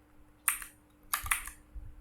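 Computer keyboard keys clatter as data is typed into a PostgreSQL-backed ASP.NET C# application form: two short, close bursts of quick keystrokes separated by a brief pause, fairly quiet, with no talking.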